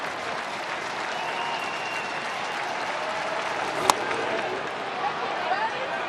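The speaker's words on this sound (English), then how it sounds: "Crowd comes alive." Baseball stadium crowd at a Blue Jays vs Cardinals game, tied in the ninth, rising in a steady broad roar and cheer that stays at a constant level throughout, with a sharp crack midway and announcers talking over it.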